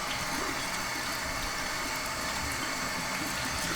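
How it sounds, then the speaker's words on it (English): A sweet potato is scrubbed by hand or brush under a running kitchen tap, the water rushing in a steady, loud, unbroken stream throughout. "just run it under tap water and give it a good scrub with either a brush or your fingers"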